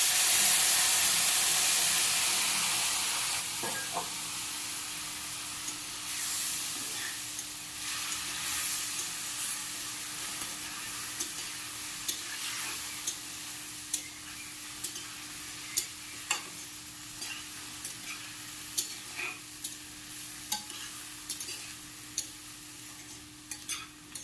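Tomatoes frying in a pan with a little hot water added, starting with a loud steamy hiss that gradually dies down into a softer sizzle, broken by the regular clicks and scrapes of stirring.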